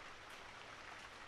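Steady rain falls as a soft, continuous hiss of dense drops across the whole moment, very faint and even, with no voices over it.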